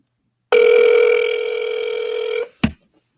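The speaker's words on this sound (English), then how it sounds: "So you can hear it's just ringing." A telephone ringback tone on an unanswered call rings once as a steady, loud tone for about two seconds, then breaks off, followed by a short click or knock.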